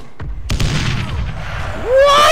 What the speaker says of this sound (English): That grenade fucking exploded in midair.